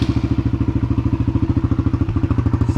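Kawasaki KLX140 dirt bike with its stock exhaust and torn-out spark arrestor running at a fast, loud, regular thumping idle close by, no talk.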